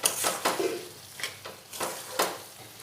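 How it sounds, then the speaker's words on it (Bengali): Ridge gourd being stirred with salt in a pan: a few separate scraping, clattering strokes of a spatula, spaced irregularly, with a faint sizzle between them and no talking. "দিয়ে আবারও নাড়াচাড়া করে নুনটার সাথে মিশিয়ে নেব ঝিঙাগুলো"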